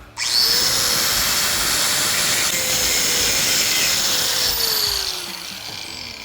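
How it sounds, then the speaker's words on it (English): An angle grinder fitted with a cutoff disc slices through metal while knife pins are cut during forging of a hunting knife, a loud sustained whine held steady for several seconds before winding down. "Put in my cutoff disc."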